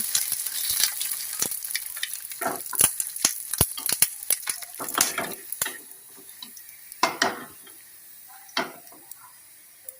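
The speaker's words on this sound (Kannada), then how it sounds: "ಎಣ್ಣೆಯಲ್ಲಿ ಕಾಯಿಸಿದ್ದೇನೆ" Rava sandige fry in hot oil, giving a close, steady crackle and sizzle with scattered bursts of bubbling and popping that ease off toward the end.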